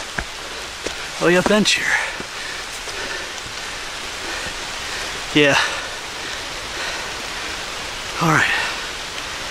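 Steady hiss of rain falling on a forest trail in Worlds End State Park, Pennsylvania, continuing throughout while nearby voices exchange a few brief remarks.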